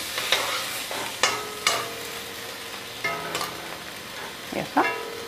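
Boiling-hot water goes into a pan of fried rohu fish in a curry being cooked with peanuts, giving loud splashing hisses and sputters in several separate bursts with short sizzling gaps between them.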